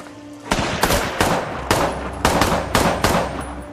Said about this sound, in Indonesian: si bocil FF sialan itu malah menembak Robert